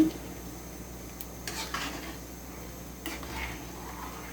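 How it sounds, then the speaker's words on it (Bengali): A spoon stirs food in a cooking pot in a few soft, scraping strokes over a steady low background hum, with no voices. "ভালো করে নেড়ে দিচ্ছি"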